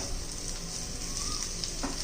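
Raw banana sabzi fries and is gently stirred in a pan, a dense continuous sizzle close by with faint scraping under it and no speech.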